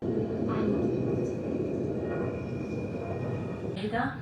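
Low rumbling of a moving Swiss train heard from inside a carriage near Chur, a steady rolling drone with faint squeaks and a brief whine near the end.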